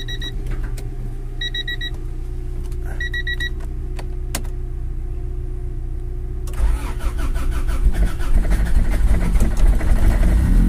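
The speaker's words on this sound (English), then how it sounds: "that thing fired up pretty good with that shitty battery" A Honda CRX with a weak battery and no coolant cranks with a few slow starter turns and faint chimes, then fires up into a loud, rough idle that carries on to the end.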